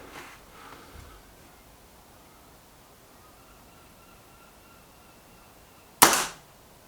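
A Kral NP-02 laminate air rifle fires a single shot at a target range: one sharp, loud, close crack near the end, after several seconds of quiet.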